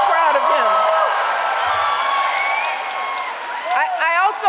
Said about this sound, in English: So let's give Aron a big round of applause.